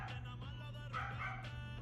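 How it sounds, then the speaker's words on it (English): A dog barks faintly in the background, a few soft, distant yips that sit under a steady low hum. "Oh, there's that dog."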